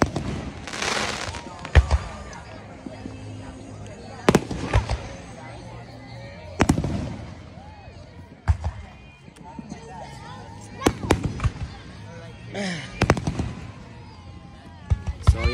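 Canada Day fireworks on July 1 burst outdoors in a string of sharp, booming explosions at irregular intervals, some sharp and close, others softer, with people chatting and calling out throughout.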